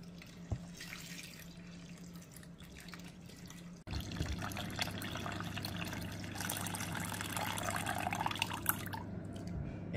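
Extracted juice for a peanut sauce is poured into a pot, a soft steady trickle that gives way to a fuller, louder pour partway through, close by with no talk.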